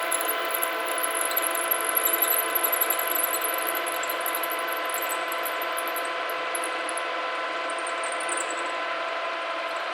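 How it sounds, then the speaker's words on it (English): A drill bores down through stainless steel on a capstan chain gypsy, a steady high whining drone with metallic squealing overtones, close and continuous, briefly rougher early on before settling into an even pitch. "we'll let it drill all the way down through there. So we're into the stainless steel now."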